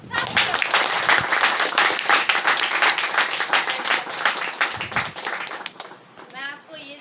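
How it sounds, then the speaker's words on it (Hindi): Congregation in a village church in Gopur, Assam clapping loudly and steadily for the Lord, a dense continuous applause that fades out near the end as a voice begins. "हम प्रभु के लिए जोर से ताली बजाएंगे सब लोग"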